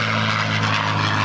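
A WWII P-51 propeller fighter flies at the 2009 Randolph AFB airshow, giving a loud, continuous, close engine drone that holds steady throughout.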